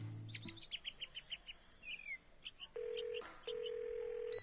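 A string of telephone keypad tones beeps quickly, followed by two longer steady tones, with faint bird chirps in the background.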